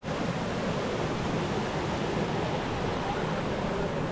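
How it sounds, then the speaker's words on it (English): Linhope Spout, a waterfall in Northumberland that plunges a few metres, gives a steady, loud, broadband rushing roar that holds evenly throughout, with no voices over it. "This is the lovely waterfall of Linhope Spout in Northumberland."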